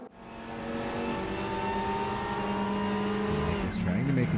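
Touring cars in the RaceRoom racing game, TCR World Tour at Zhuhai, roar together in a steady loud engine drone with shifting pitch, a brief dip near the end, and commentary over the top.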